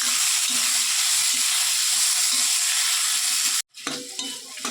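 Chopped tomatoes added to a rasam base fry in a pan with a steady, close, loud sizzle and a few stirring scrapes. The sound cuts off abruptly near the end, then resumes more unevenly.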